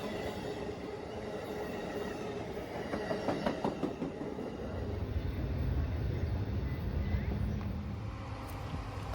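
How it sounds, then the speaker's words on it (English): An Amtrak regional passenger train passes on the CSX line at Ashland, a steady rumble of wheels and rail noise that grows heavier and deeper about halfway through, with faint clacking over the joints. "is another Amtrak regional train"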